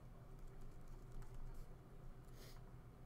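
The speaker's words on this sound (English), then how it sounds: "I'm going to just start typing in HTML" Quiet typing on a computer keyboard while entering HTML code in the Sublime text editor, a soft, steady patter of key clicks with a slightly louder burst near the end.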